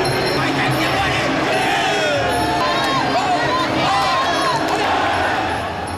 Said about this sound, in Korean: 선수들의 화끈한 경기에 관객들은 뜨거운 환호로 답한다